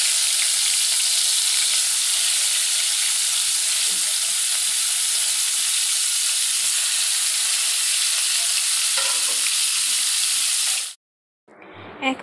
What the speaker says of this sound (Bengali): আর এখন আমি মাছগুলো দিয়ে দিচ্ছি